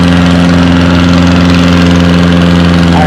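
A big pulling tractor engine at a tractor pull roars loud and close, a constant deep throbbing drone that holds steady without letup.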